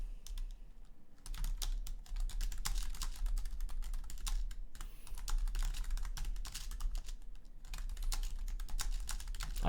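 Rapid clicking keystrokes on a computer keyboard as a chat message is typed, in close, irregular bursts with short pauses, over a low steady hum.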